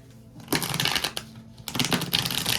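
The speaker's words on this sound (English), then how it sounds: "let's go ahead and shuffle these cards" Tarot cards are shuffled by hand in two quick bursts of crisp, rapid riffling, close and fairly loud, with a short pause between them.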